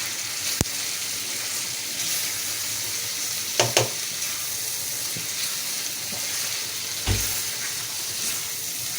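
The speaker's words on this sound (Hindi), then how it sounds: "अब अच्छी तरह फ्राई हो गई है।" Goat liver (kaleji) cooked with masala fries in a pan, a steady loud sizzle with a few sharp utensil knocks and scraping stirs.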